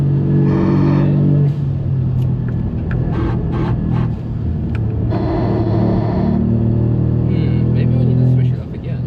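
On the Nürburgring, a car engine surges loudly and close through repeated acceleration and easing off, its drone rising and falling with brief gaps between pulls.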